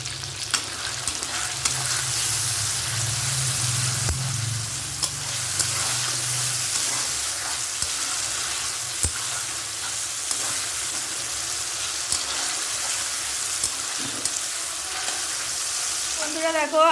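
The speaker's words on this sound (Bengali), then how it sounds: "ওই মাংস ভাজার তেলেই টমেটো আর পেঁয়াজটা দিয়ে দিয়েছি" Tomato and onion frying in oil left over from frying chicken, a continuous loud hiss and crackle close up, with occasional stirring clicks.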